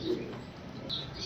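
A pair of black German shield pigeons gives soft, low cooing, faint and close against a steady background hum.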